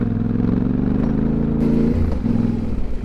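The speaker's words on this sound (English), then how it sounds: "the torque low down is just amazing. I've never stalled this engine, not once." Yamaha Tenere 700 motorcycle engine on an off-road trail, a steady low-pitched engine drone with a slight shift in pitch partway through, loud and close throughout with no talk.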